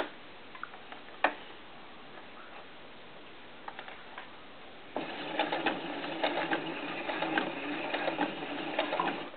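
Sewing machine stitching bias tape onto a doll diaper, faint scattered ticks and clicks at first, then a steady close rapid stitching rattle from about halfway through.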